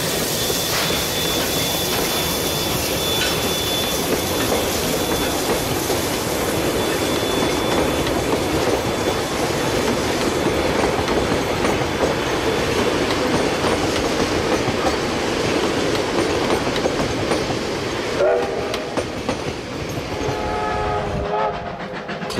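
A steam train rumbles loudly and steadily along the rails from Picton to Kaikoura, with rhythmic clatter and a brief hiss or whistle near the end.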